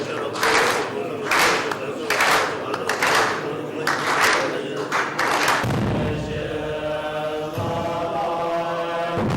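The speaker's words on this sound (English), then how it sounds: "the rituals include clapping of hands" Buddhist monks of the Kagyu lineage in Sikkim clap their hands during a ritual, sharp loud claps repeating in irregular bursts, then giving way to sustained droning chant.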